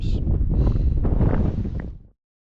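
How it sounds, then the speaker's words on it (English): Wind gusts buffet the microphone on a cold hillside, a loud rough roar that swells and rustles for about two seconds before cutting off suddenly to silence. "it's cold and it's windy"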